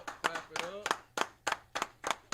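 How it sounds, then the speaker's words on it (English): A group claps hands together in a steady rhythmic beat at a Tuesday brotherhood class in Houston, sharp claps landing about three times a second, with voices chanting or talking among them. "Clap it up."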